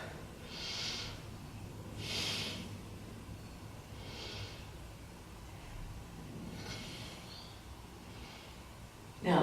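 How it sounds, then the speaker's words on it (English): Slow, steady breathing held in a yoga pose, several audible nasal inhales and exhales spaced a couple of seconds apart, close and quiet, with no talk. "Take 3 breaths here"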